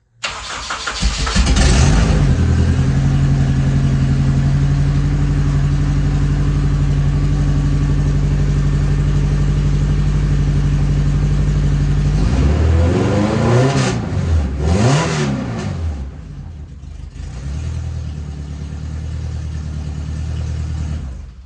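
A race car engine cranks and fires up, settles into a loud, steady idle, then blips through several sharp revs before dropping back to a rough idle, close by and with no talk.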